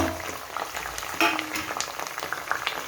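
Ingredients tipped into hot oil in a homemade hair-oil preparation crackle and sizzle steadily, with a sharper burst of spitting as they go in, close by and fairly loud.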